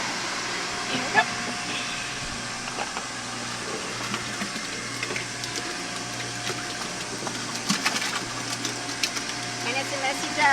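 An archaeology flotation machine runs at an excavation site, giving off a steady mechanical whir and hum with faint rattling throughout, while people talk in the background.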